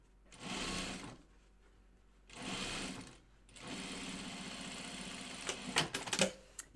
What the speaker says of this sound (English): and sew it together.